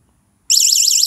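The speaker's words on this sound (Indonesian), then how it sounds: "untuk menyalakan lampu yang sistem alarmnya kita tap dua setengah detik" Xiaomi NEXTOOL 6-in-1 1000-lumen flashlight's built-in alarm switches on after a moment of silence, a loud, close, piercing siren warbling steadily and rapidly up and down.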